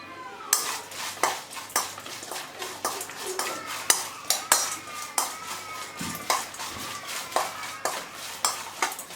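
A spoon clinks rhythmically against a bowl while green chilies are stirred with turmeric and salt for pickle, producing steady, close scraping taps about twice a second.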